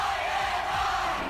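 A large sports crowd cheers wildly in a roaring, continuous wash of voices, brief and loud, used in a radio advertisement for college football.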